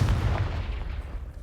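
The Confringo blasting spell goes off in Hogwarts Legacy on PS5 as one loud, booming burst that rumbles and slowly fades.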